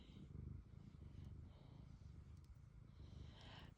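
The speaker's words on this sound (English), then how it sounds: "I don't know if you can hear her purring." A soft, steady purr rumbles continuously close to the microphone, low and quiet, with no other sounds around it.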